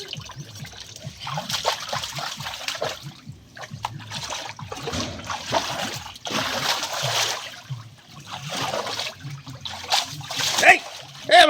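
Water splashing and trickling during outdoor water play, irregular splatters and pouring sounds, with people talking and calling out over it throughout.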